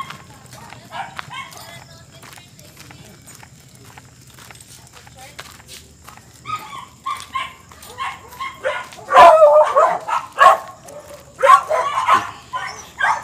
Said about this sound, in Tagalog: Nakita niyo yung mga aso.